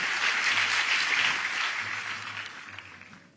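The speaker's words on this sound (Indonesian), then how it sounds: "Boleh kasih tepuk tangan buat tim praise and worship kita." A church congregation applauds the praise and worship team, a fairly quiet, even wash of clapping that gradually tapers off over a few seconds.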